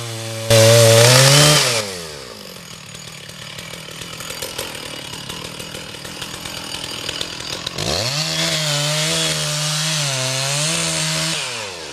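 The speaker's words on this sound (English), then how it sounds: "I'm about to hit metal in the back cut here" A chainsaw revs loudly, then bogs down while cutting through wood and hitting hidden metal in the back cut, with grinding, rasping texture, before revving up again near the end.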